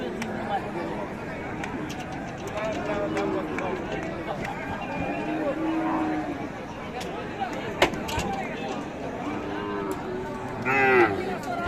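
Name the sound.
cattle mooing at a cattle market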